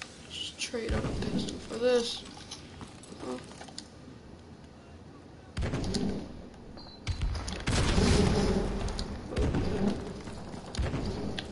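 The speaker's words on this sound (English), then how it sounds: "Friendly airstrike on the way!" Airstrike explosions rumble and crack in Call of Duty Modern Warfare, with heavy booming bursts and scattered gunfire across several seconds, mixed under a player's occasional talk.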